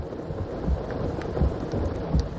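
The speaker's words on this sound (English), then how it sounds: "Oh, it's hailing again." Hail and heavy rain pelt down in a severe Kansas storm, a dense steady roar of hits with periodic low thuds recurring about every 0.7 seconds, with no talking.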